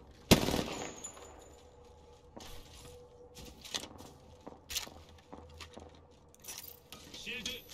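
Gunfire at enemies in a video game: a sharp, loud opening burst, then scattered quieter shots and metallic clinks spread across the rest.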